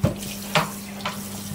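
Rendang being stirred in a pot, with three separate scraping, wet stirring strokes spaced evenly over a low steady background hum, close and fairly quiet.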